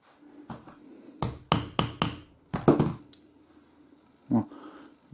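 Several sharp metallic hammer blows straightening metal while making a duck call, in quick bursts, about eight strikes with short pauses between, fairly close, over quiet background.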